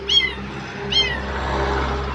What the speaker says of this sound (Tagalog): At may pusa doon. Meow meow. Meow meow.